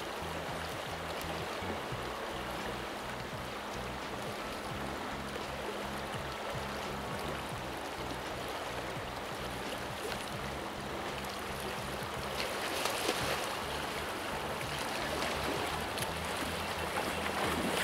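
Creek water flows steadily at a steelhead fishing spot after rain, a broad continuous rushing wash that stays loud and even, swelling slightly near the end, with no voices.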